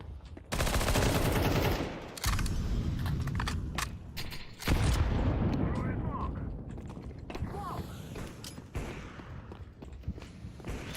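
Rapid automatic gunfire from a first-person shooter video game, with loud bursts and booms at close range followed by fading echoes and quieter game noise, while a player talks over it.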